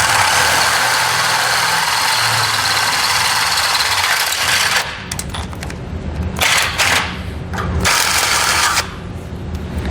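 A drill bores pilot holes into the frame of a 2011 Ford Crown Victoria for a Curt trailer hitch, a loud continuous motor whir that dips and surges several times toward the end, with no talking.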